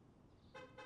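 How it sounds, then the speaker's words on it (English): A locking car gives two quick, bright horn chirps a moment apart, heard faintly from a distance over low background room noise. "this person keeps locking and unlocking their car"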